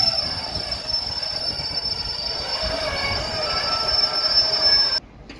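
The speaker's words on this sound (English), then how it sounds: "this 88 with the Tesco train is very slowly crawling through platform 14 here at Piccadilly" A Class 88 locomotive hauls a Tesco freight train slowly through platform 14 at Manchester Piccadilly, with its wheels giving a steady, loud, high-pitched squeal over the rumble of the rail cars until it cuts off abruptly.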